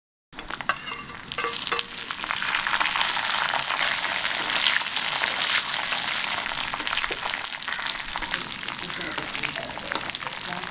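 Raisins tossed into a pan with browned coconut and cashew nuts for an aval and date payasam, sizzling loudly and steadily throughout with stirring scrapes, close up and without talk.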